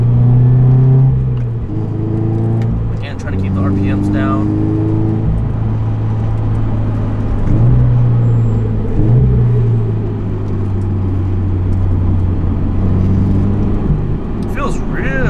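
A car engine revs and drops through gear changes on a race track, loud and close from inside the cabin, with someone talking over the steady droning pitch sweeps.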